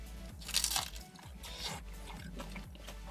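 Crunchy bites into a Del Taco queso crunchtada with ranch sauce and chicken, a few close, sharp crackling crunches and chewing at a steady pace.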